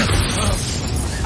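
Loud, dense booming blasts from Confringo and Bombarda explosion spells in the video game Hogwarts Legacy, a continuous rumbling roar of overlapping bursts with no pause.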